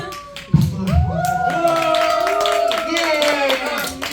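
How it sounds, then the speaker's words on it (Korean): Congregation at a Korean online church service clapping together, a sharp start followed by a sustained round of applause, with a tonal voice or music carrying above it. "실천에 옮기는 박수."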